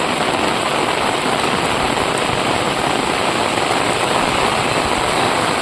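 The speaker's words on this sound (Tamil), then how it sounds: "சரியான மழை பெய்யுதுன்னு நினைக்கிறேங்க" Heavy rain pours down steadily during a downpour in Tirunelveli district, a dense, continuous hiss of water drumming on surfaces, loud and even throughout with no voices.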